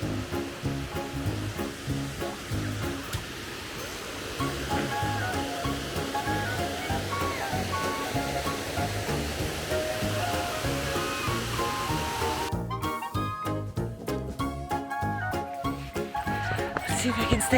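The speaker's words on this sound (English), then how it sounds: "One more waterfall." Waterfall on a Columbia River Gorge hike rushing in a steady broadband roar, moderately loud and continuous, with footsteps and faint movement layered over it.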